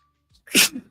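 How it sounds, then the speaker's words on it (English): A single sharp sneeze, preceded by a brief intake of breath, close and loud in an otherwise quiet setting. "That made me sneeze."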